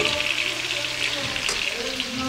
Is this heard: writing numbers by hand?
no